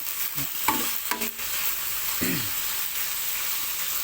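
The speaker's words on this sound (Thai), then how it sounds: "หมูทอดกระเทียม กระเทียม เข้าไปนะหมู" Garlic pork frying in a pan, a steady hissing sizzle with a few brief scraping stir sounds near the start, fairly close and loud.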